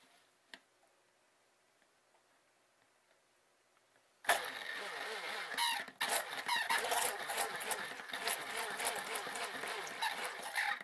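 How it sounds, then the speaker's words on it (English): A loud motorized stick blender whir starts abruptly after a few seconds of near silence, during soap making, with a brief stop and restart, then runs steadily at close range. "let's hear the horrible, horrible stick blender again"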